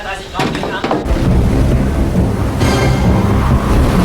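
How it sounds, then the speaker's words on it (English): Depth charges go off around a submarine in the WW2 film Das Boot as a continuous heavy, rumbling roar of underwater blasts. A sharper crack comes near the start, and dialogue runs through the thick low noise. "now they can hear depth charges"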